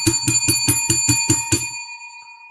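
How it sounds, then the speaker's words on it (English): A bright bell rings in a quick run of about eight even strikes, close and loud, then leaves a clear metallic tone that fades out alone. "Let's ring the bell for Roddy White."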